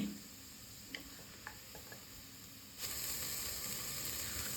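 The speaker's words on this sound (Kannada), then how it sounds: "ಸ್ವಲ್ಪ ಗೋಲ್ಡನ್ ಬ್ರೌನ್ ಬರೋವರೆಗೂ ಫ್ರೈ ಮಾಡ್ಕೊಳ್ಳಿ. ಅದಕ್ಕೆ ಕರಿಬೇವು ಸೇರಿಸ್ಕೊತಾ ಇದ್ದೀನಿ." Onions and curry leaves fry in a pan, faint crackle with a few small ticks and pops, then a sudden louder, steady sizzle takes over for the rest.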